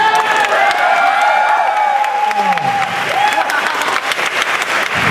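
A theater audience at a live trick performance breaks into loud, dense applause and cheering, with a high whoop and whistle-like calls rising above the sustained clapping throughout.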